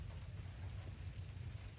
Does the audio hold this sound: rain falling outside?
yes